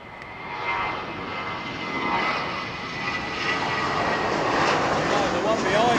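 A jet airliner rolls on runway 27R at London Heathrow Airport, its engines roaring loud and steady and building slightly throughout, with an MD-11 or 777 trailing behind.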